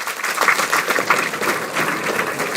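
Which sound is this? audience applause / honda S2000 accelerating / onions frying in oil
audience applause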